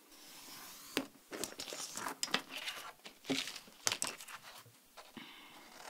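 Paper card pieces for an Easter pop-up card are cut out, faint close snips and crinkling paper rustles in an uneven series, quiet with no speech.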